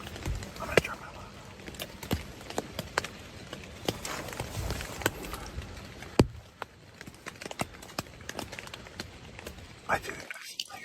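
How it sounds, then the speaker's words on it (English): Footsteps fall outside a tent at a campsite in the woods, an irregular string of soft, close taps and crunches against a quiet background, with faint murmuring beneath. "I hear footsteps. There's something outside my tent"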